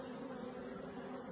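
Honey bees buzz inside a hive in a queenless colony, a faint, steady drone close by with no talking.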